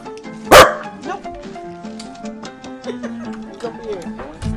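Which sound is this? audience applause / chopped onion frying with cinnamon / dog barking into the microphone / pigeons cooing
dog barking into the microphone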